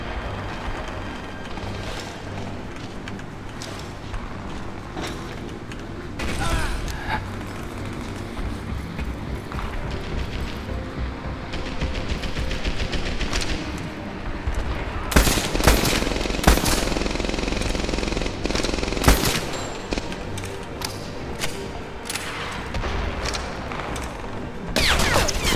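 Video game gunfire in Medal of Honor Airborne: rapid bursts of automatic fire and sharp single shots with crashes, growing louder and denser in the second half, heard alone without speech.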